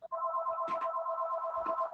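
A telephone rings indoors with a steady electronic ringtone, a bright two-tone warble that repeats continuously, interrupted by a couple of soft knocks and handling noises, with no speech.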